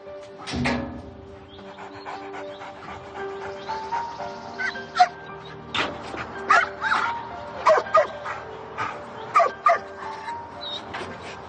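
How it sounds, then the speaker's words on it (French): A search dog arrives during a tracking exercise with a child, giving a series of sharp barks and yips that grow more frequent and louder in the second half, with faint voices and background noise. "Quand tu vas entendre le chien arriver"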